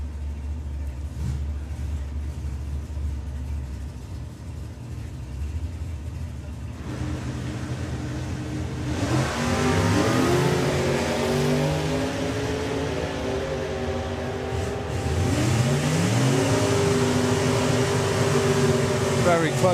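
A '55 and a '57 Chevy launch down a drag strip, engines climbing in loud rising roars that shift up through gears as they run, with an announcer talking over the action.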